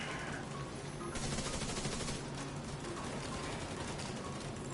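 Automated turrets in the video game Tom Clancy's The Division 2 fire continuous rapid bursts of gunfire that fill the whole stretch, loud and dense, with no clear speech above them.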